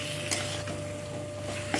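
Jujube pickle being stirred in a pan as jaggery melts, a soft continuous scraping and bubbling simmer with a couple of light utensil knocks, close and steady with no voices.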